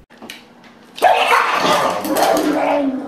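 A dog, either an American Bulldog or a Dachshund, barks and whimpers close by in a continuous agitated stretch after a brief quiet start, and a person's voice is mixed in.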